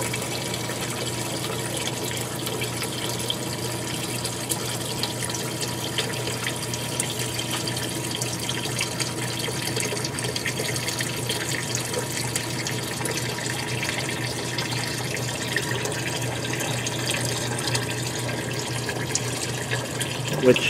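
A Whirlpool washing machine drains into a sump bucket, producing a continuous, moderate rush of flowing water with a faint pump hum, steady for the whole stretch and without speech.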